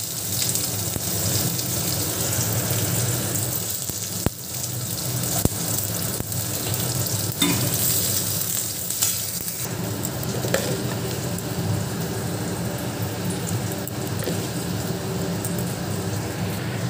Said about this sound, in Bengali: শুকনো লঙ্কা দিয়েছি, একটু জিরে ফোড়ন দিয়েছি তেলের মধ্যে